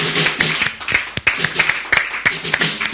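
A church congregation claps in a steady, lively rhythm to acclaim the Lord, the claps sharp and close together, with voices faintly underneath.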